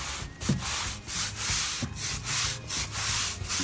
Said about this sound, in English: Scrub it in just like this, all the way around.